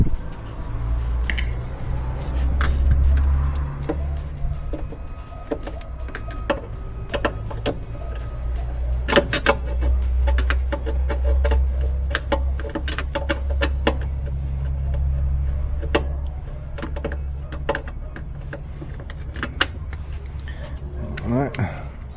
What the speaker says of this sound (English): I'm going to take everything off of this